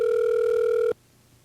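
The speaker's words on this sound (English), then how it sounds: "I can't hear you over the ringing" A telephone rings once with a single steady electronic tone, loud and close, lasting just under a second before cutting off abruptly into quiet line noise.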